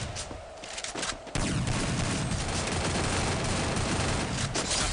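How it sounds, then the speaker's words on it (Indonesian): Dense, continuous gunfire from the Free Fire battle royale game, rapid shots overlapping into a steady fusillade that jumps louder after a quieter opening second and stays loud to the end. "terjadi tembakan"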